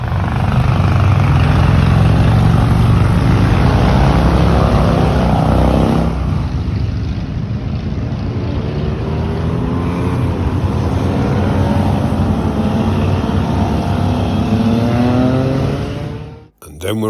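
A steady engine drone from a Honda ST1100 touring motorcycle riding through French countryside, loud and continuous with a brief shift near the middle and a sudden drop at the end.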